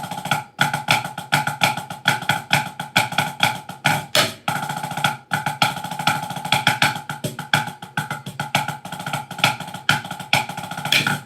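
Drum kit grooves through the chorus of a song, a dense steady beat of cymbal wash and punchy hits with a short break near the middle, loud and continuous with no talking.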